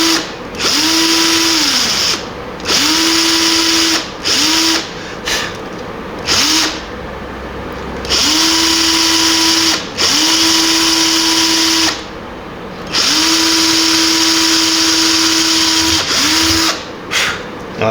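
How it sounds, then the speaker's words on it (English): An electric drill bores pilot holes in a wooden guitar headstock during a rebuild, whining in repeated bursts of a few seconds each, separated by short pauses. It is loud and close, with no talk. "drill the pilot holes"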